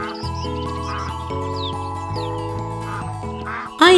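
A cartoon duck quacks in a short animated farm story, several bright quacks over a steady jingling, tinkling music bed, with a louder burst at the end.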